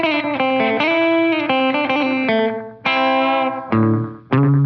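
A distorted electric guitar plays a riff, with loud, ringing, droning notes and a slide down the neck, followed by a few punchy picked phrases.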